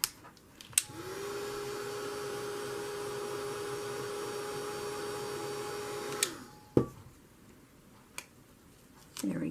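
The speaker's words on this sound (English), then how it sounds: "Watch out, the heat gun gets hot." A heat gun drones steadily for about six seconds, blowing hot air to melt the glue on a book cover. Clicks bracket the run, and quieter handling noises follow after it shuts off.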